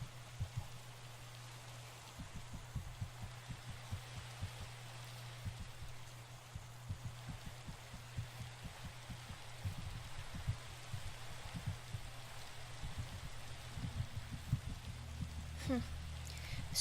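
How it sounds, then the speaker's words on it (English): Steady rain patters at night in a video game, in the background with a low hum and scattered soft thumps, growing slightly louder toward the end. "Eep, night and rain."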